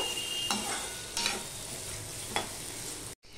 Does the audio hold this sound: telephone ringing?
no